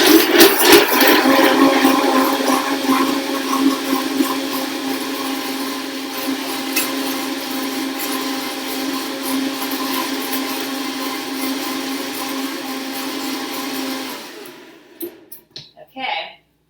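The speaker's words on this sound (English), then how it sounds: "The blender? Yeah." Loud, whirring blender running close by for about fourteen seconds while blending a cricket protein smoothie with almond milk, then cutting off, followed by a few faint knocks and rustles.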